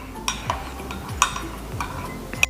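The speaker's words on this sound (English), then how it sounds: "And then we stir it." A spoon clinks against the sides of a cup in a quick irregular rhythm, stirring coffee powder into boiling water with soft swishes between the sharp taps.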